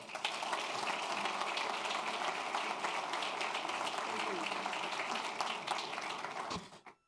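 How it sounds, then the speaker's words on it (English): An audience at a school district's Teacher of the Year announcement claps for the Superintendent of Schools, a steady dense wash of applause heard at a distance, fairly faint, tapering off at the end. "please give a big round of applause to our Superintendent of Schools, Dr. Xavier de la Torre"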